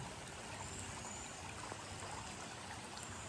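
Shallow river water rushes and trickles at a village crossing where residents do their washing, a constant close-up babble of flowing water with no voices.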